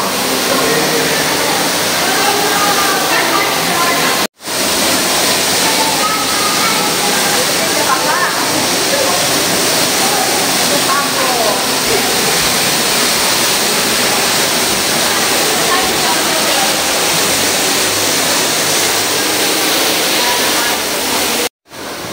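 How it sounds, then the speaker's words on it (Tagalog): Water flows and splashes steadily around bare feet wading through a shallow pool at the TeamLab Planets exhibit in Tokyo, a loud continuous wash with a couple of abrupt cuts. "dadaanan namin tubig"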